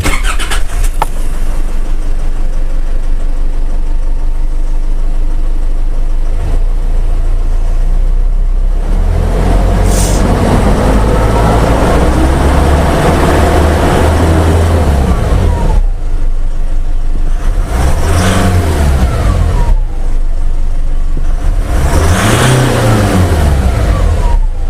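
A car engine cranks and starts, then revs up and down repeatedly in loud surges, close and continuous with no talking.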